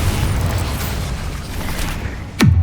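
Bombarda spell explosion in Hogwarts Legacy: a single sudden, loud burst with a deep, falling boom lands near the end, after a steady low rumble of combat background.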